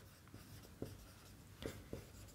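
Chalk or marker writing on a board during a university maths lecture, soft scratchy strokes with a few firmer taps, faint and close, no talking.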